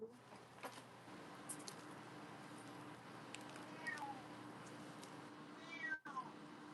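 A cat meows faintly a few times in a quiet indoor room, distant and soft over a steady low hum.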